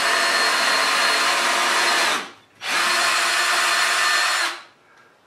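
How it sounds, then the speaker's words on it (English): A power drill drives screws into wood in two long, loud bursts of steady whirring, each lasting about two seconds, separated by a brief pause, heard close and alone. "So I'm putting my screws in on a triangle."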